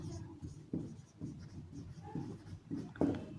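Chalk or marker scratching on a classroom board during a physics lesson, writing out a point in short rhythmic strokes, quiet and close, with no talk over it.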